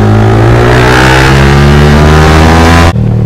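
A motorcycle ridden fast gives a loud, close, sustained engine drone as it accelerates, then the sound drops off sharply near the end.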